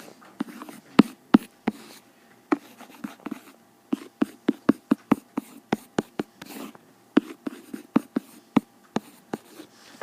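Pen or marker writing notes during an algebra lesson, a run of sharp taps and scratchy strokes in irregular bursts, close and fairly quiet, no talking.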